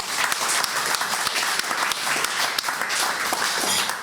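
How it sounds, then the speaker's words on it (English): Audience applause at a fair trade tea event in Dubai, steady dense clapping from a crowd filling the whole stretch at an even level. "So that deserves a round of applause."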